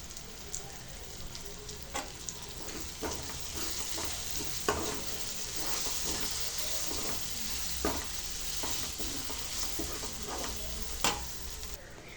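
Egg pulusu curry fries with chili powder in a pan, a soft steady sizzle broken by scattered scraping clicks as a utensil stirs it, fairly quiet and free of talk.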